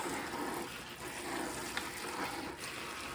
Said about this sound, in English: But first I inspect every leaf and rinse every leaf.